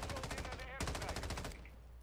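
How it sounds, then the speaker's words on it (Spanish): Fast automatic gunfire rattles in a shooter video game, two close, rapid bursts separated by a brief pause, loud and continuous. "¿A quién está disparando, man?"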